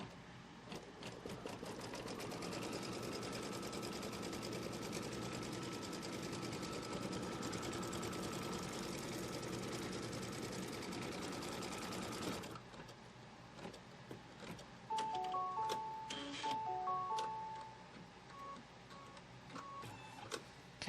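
Embroidery sewing machine stitching fabric for a Pumpkins & Potions quilt, a fast steady mechanical rattle running alone for about twelve seconds, then quieter clicks and short electronic beeps.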